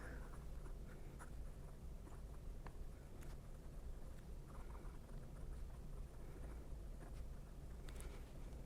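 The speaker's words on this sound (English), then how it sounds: "Let's go ahead and do just some writing." A hand-painted fountain pen writes on paper with faint, close scratchy strokes and soft taps in an irregular rhythm, very quiet over a low background hiss.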